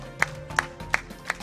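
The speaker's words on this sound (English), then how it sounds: "Let's clap to the team." At a county learning event in Garissa, Kenya, four slow, evenly spaced claps ring out, crisp and close, over a quiet room hum.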